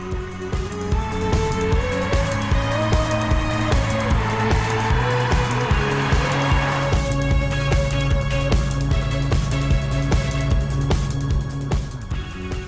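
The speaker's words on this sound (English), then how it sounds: "Sporty and fast describe the Golf GTI out on the road." A sixth-generation Volkswagen Golf GTI drives fast on an open road, its engine note a steady, loud drone with shifting pitch and a gear change midway, continuous and close with no voices.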